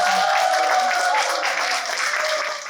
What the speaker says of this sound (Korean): 다 함께 격려로 박수로서 격려해 주시면